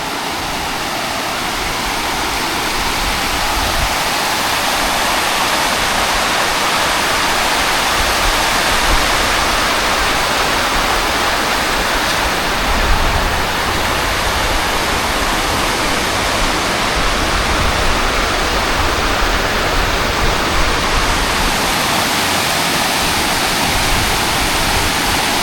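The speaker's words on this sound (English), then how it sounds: "It's kind of like a torrent." The River Rivelin runs full and fast in autumn, a loud, dense, unbroken roar of churning water that stays steady from start to finish.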